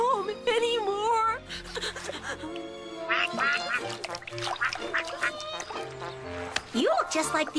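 A cartoon duck quacks repeatedly in loud, nasal bursts over background music, with a few short honking calls mixed in.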